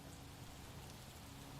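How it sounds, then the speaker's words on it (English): Steady rainfall in the video game L.A. Noire, a dense, even hiss of rain on surfaces with no break across the short stretch, fairly quiet and without voices. "Yes, it's raining."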